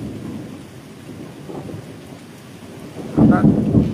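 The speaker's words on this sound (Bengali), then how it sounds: "মেঘের ডাক কীভাবে হচ্ছে, আর গুড়ুম গুড়ুম করে আওয়াজ হচ্ছে" Thunder rolls over the Sundarbans during a storm with rain. A low, steady rumble swells into a louder, closer crack and boom near the end, with no talking.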